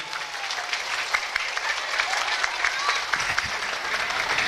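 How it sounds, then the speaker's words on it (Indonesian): An audience at an Islamic religious lecture during a Quran completion ceremony breaks into loud, sustained applause, with dense clapping that continues evenly throughout. "Saya minta tepuk tangan dulu untuk panjenengan sedaya."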